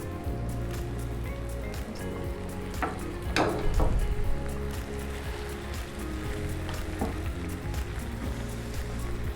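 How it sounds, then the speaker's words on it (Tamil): Tomatoes frying in oil in a pan for a mutton pepper masala, a dense continuous sizzle with a few sharper spatters and stirring scrapes partway through. "தக்காளியை நல்லா வதக்கணும்"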